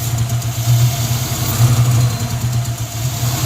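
The engine of a 1994 convertible idles roughly, a low uneven burble that surges and sags in pitch without steadying, close and loud with no voices.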